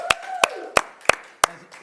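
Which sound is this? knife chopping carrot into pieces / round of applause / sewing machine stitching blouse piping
round of applause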